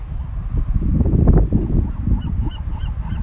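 A goose approaches and honks repeatedly at close range during a ride on a Koowheel electric skateboard, its harsh calls loud over low rumbling road and wind noise.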